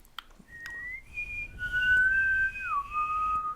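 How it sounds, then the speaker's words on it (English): A person whistles a short sliding tune, close and clear, holding notes for about three seconds with no talking. "remember, just whistle."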